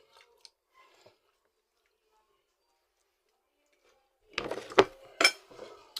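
Close, crunchy bites and chewing of pakbet, kinataan and chicken liver, with soft clinks of utensils in a short cluster after near silence.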